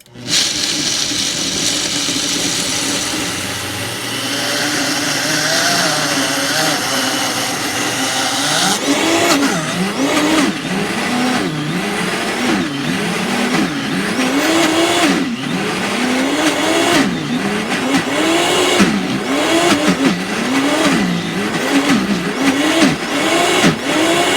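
A Vitamix Whole Food S30 blender grinds peanuts into hot peanut butter, starting with a loud motor roar that settles into a rhythmic, surging whine as the thick paste churns, continuing unbroken for over twenty seconds.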